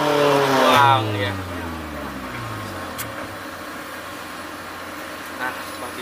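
Trucks and an excavator working at a garbage dump. A heavy engine revs and its pitch drops as it passes close by, then a steadier rumble of machinery continues in the background.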